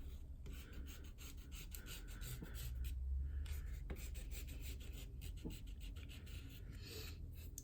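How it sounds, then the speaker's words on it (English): A kneaded eraser rubs pencil marks off Bee watercolour paper with masking fluid, giving a soft, continuous close-up scratchy rasp of repeated strokes with no voices. "So I'm just going to erase some of these pencil marks around."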